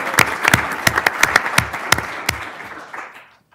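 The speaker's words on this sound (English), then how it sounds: "We gotta clap for that." Scattered clapping from a small council meeting audience greeting a youth softball team: distinct individual claps stand out over a softer patter, then thin out and stop near the end.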